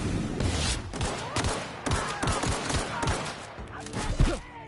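Gunfire in The Outer Worlds, a string of sharp, rapid shots in quick succession, close and fairly loud amid busy combat noise.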